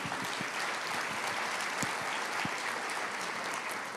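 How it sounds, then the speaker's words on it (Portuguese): A church congregation applauds during a sermon, a continuous wash of distant clapping with a few sharper claps standing out, steady and fairly faint throughout. "pode aplaudir"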